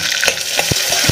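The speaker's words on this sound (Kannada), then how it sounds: "ಒಗ್ಗರಣೆಗೆ ಸಾಸಿವೆ, ಕರಿಬೇವು ಸೊಪ್ಪು, ಒಂದೊಂದು ಈರುಳ್ಳಿನ ಸಣ್ಣದಾಗಿ ಹೆಚ್ಚಿ ಹಾಕ್ತಾಯಿದ್ದೀನಿ" Mustard seeds, curry leaves and finely chopped onion are tempered in hot ghee with a loud, close sizzle broken by quick crackling pops.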